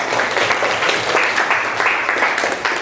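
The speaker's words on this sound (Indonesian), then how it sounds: "Kita beri aplaus untuk." Applause in a classroom, a dense burst of many hands clapping together for about three seconds.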